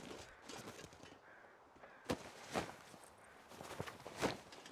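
Several crow-like caws ring out in a sparse series in the video game The Long Dark, moderately loud against a soft ambient background, with no talking.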